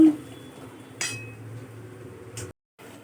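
A pan of ridge gourd and potato posto being stirred and covered, with soft scraping and a couple of metallic clinks of utensil and lid against the pan, quiet and close, followed by a brief silence.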